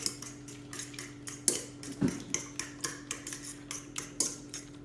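A spoon or whisk beating cracked eggs into banana loaf batter in a bowl, a quick series of light rhythmic clicks and taps against the bowl, close and fairly quiet with a faint steady hum behind.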